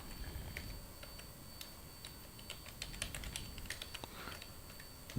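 Rapid keystrokes on a computer keyboard as a comment is typed, a steady run of light clicks over a faint background hum, with no voices.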